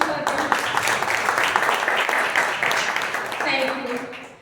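Audience applause for contestants at a Toastmasters International Speech Contest in Pune, a dense steady clapping that fills the room for several seconds and then thins out, with voices murmuring underneath.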